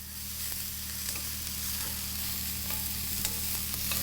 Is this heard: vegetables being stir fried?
yes